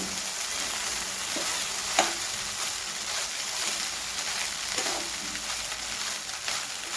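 Egg fried rice stirred and frying in a hot pan, a steady dense sizzle with a few sharp scraping clicks of the spatula at irregular intervals, close and fairly loud with no talking.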